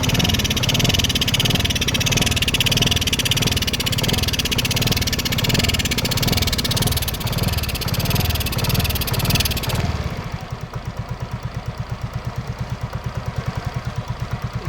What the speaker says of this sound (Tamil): வண்டி ரன்னிங்லேயே தான் இருக்குது, அப்படியே தான் உட்காரிச்சு